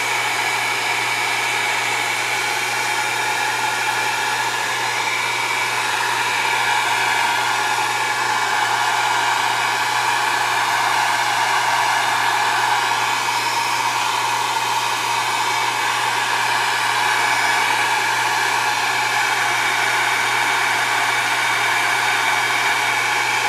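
A hair dryer blows steadily for the whole stretch, drying paint on a craft frame; a constant, close, even whoosh with a low motor hum and no talking.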